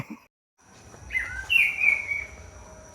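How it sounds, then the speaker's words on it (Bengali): A short, bright bird call rings out clearly over a quiet, low background hum, a single sustained chirping phrase lasting about a second. "আমি পাখিটার শব্দ শুনতে এসেছি, আমার ফেভারিট বার্ড।"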